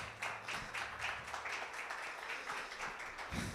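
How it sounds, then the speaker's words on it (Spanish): Church congregation clapping hands in a steady rhythmic beat during a worship service, many claps blending into regular pulses at moderate volume. "¿Qué le parece si le da una ofrenda de palmas al Señor?"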